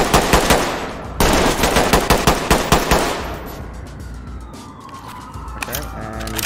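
Rapid bursts of gunfire crack out close and loud in a tight volley for the first few seconds, then fade into a lingering wail like a siren, with shouting voices mixed in.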